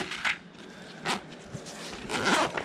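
Short, faint zipping strokes from the zipper of a Zman Deluxe card binder, three quick rasping pulls spread across a quiet moment at close range.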